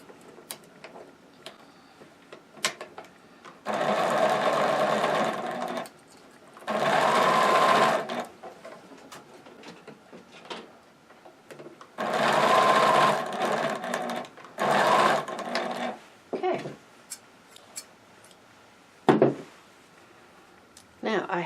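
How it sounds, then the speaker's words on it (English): A sewing machine stitches around the foot of a stocking, running in several separate bursts of steady whirring separated by quiet pauses, with clicks and handling knocks between them; close and clear. "I'm going to sew on this pivot point"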